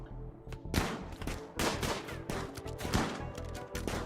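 Colonists fire guns in Rimworld, a string of sharp gunshots in uneven bursts over a low game background, repeated close together for several seconds.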